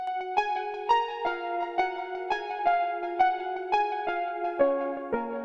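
Soft, dreamy lo-fi synth layers panned wide, with rounded plucked attacks repeating in a gentle rhythm, mellow in tone, with no voices.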